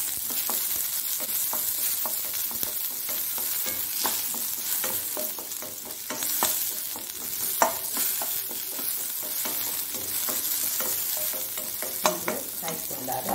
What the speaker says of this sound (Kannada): ಕತ್ತರಿಸಿದ ಒಂದು ಆನಿಯನನ್ನು ಹಾಕೊಳ್ತಿದ್ದೇನೆ. ಈರುಳ್ಳಿ ಒಳ್ಳೆ ಸಣ್ಣ ಉರಿ ಮಾಡಿಕೊಳ್ಳಿ.